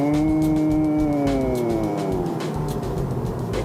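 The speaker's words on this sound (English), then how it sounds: "this car comes with a continuously variable transmission" A steady car engine with a continuously variable transmission drones at sustained high revs, its pitch sliding slowly and evenly rather than stepping through gears, continuous and fairly loud.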